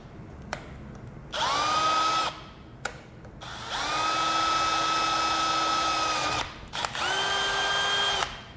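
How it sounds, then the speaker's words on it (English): A small power drill boring a tiny hole in a custom boost carburetor hat, running in three high-pitched whining bursts of a few seconds each with quiet pauses and small clicks between. "I'm running a drill through there."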